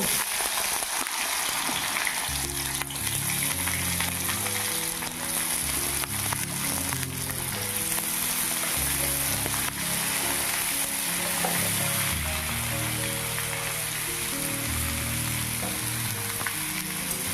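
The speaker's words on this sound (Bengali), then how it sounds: "তেল গরম হয়ে গেছে এবার দিয়ে দেবো কেটে রাখা আলু আর কাঁকড়ো" Cut potatoes and teasel gourd dropped into hot oil in a pan for a Bengali poppy-seed dish, a loud, dense, continuous sizzle and crackle heard up close with no talking.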